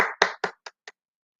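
A single person clapping hands during an online soft-skills class: five quick, close claps that get fainter and shorter, alone with no talk over them.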